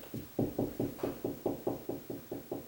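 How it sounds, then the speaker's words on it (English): A series of about a dozen dull, hollow knocks on a ceiling, evenly spaced and fairly close, with no talking. "I'm going to do some knocking."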